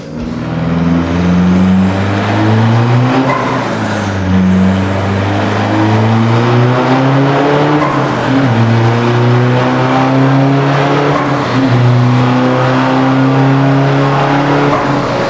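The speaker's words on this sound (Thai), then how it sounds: "ก็จะลอง ขับรถเกยร์สามให้ดูนะ" A turbocharged 1.9-litre car pulling hard in third gear, its engine loud and close as the revs climb in long sweeps with brief dips at the shifts, and a steady roar throughout.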